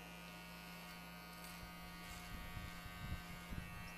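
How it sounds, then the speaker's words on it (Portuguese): Electric finishing clippers trimming the front hairline during a taper fade haircut, a steady faint buzz running throughout with slightly louder bursts as the blades bite into hair near the end. "eu vou pegar a máquina de acabamento de novo"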